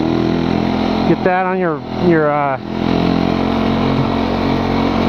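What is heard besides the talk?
old 4-stroke snow bike engine idling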